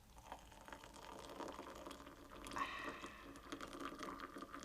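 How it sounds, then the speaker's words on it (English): Boiling water is poured out for a cup of tea, a faint, steady liquid gurgle and splash lasting a few seconds, with no talk. "Just going to pour this out now."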